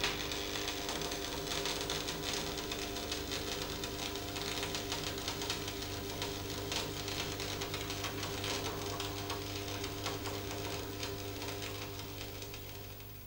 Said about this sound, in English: leave it on the bench with the electrode at 45 degrees, otherwise weld it as before.